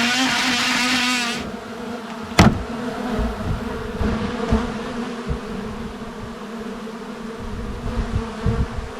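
Bees buzz loudly and continuously around an old hive inside an abandoned RV, a close droning hum with occasional knocks and rustles of movement.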